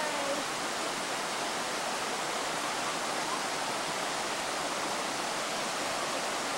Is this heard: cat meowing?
no